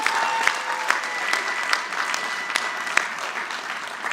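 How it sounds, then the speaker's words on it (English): Graduates at a commencement ceremony applaud in a sustained wash of clapping from a large crowd, dense and even throughout with a few sharper claps standing out. "Give yourself a round of applause for that."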